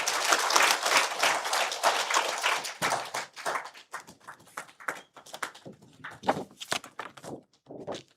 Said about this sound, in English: we continue to appreciate and applaud Chief Guest today